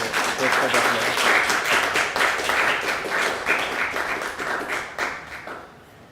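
An audience at a college graduation ceremony in Montego Bay, Jamaica applauds with sustained, dense clapping that stays strong for several seconds before tapering off at the end.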